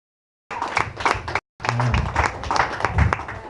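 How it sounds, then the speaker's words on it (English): Audience applause at a stand-up comedy show, a short burst of clapping that cuts off, then a longer stretch of applause with voices mixed in. "I'm going to ask for lots of rounds of applause. Can I get one right now?"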